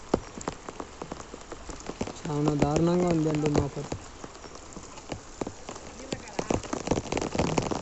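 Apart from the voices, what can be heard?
rain falling on a farmer's paddy field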